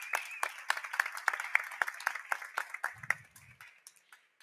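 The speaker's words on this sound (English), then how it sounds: "Give him a round of applause." An audience applauds at a venture day event, a spirited burst of many hands clapping in dense, crisp patter that gradually thins out, with a brief low murmur of voices partway through.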